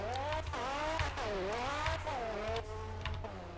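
Volkswagen Brasília engine in a Roblox driving game, droning steadily close up with rising and falling revs as it accelerates and shifts, a continuous loud motor sound with no talking over it.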